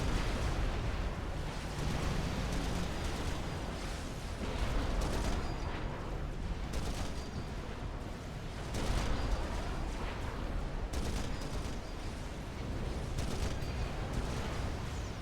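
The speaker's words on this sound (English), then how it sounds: "Mobile missile exchanges still going strong over here." Mobile missile launchers trading fire in a large 6v6 Supreme Commander battle on the Monument Valley map, a dense, continuous barrage of overlapping explosions and distant gunfire with no clear pauses.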